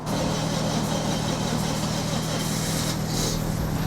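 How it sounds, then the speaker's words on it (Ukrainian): A Daihatsu Terios left unused for five years idles in a garage after starting, a steady mid-pitched engine hum with a constant tone underneath and no talking. "тачка запустилась з першої спроби"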